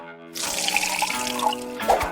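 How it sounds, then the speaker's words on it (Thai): A glass of water is poured into a blender holding apple, orange and kiwi in a home kitchen. It makes a brief, close splashing trickle that starts abruptly, runs steadily and ends with a few drips. "เทน้ำหนึ่งแก้ว"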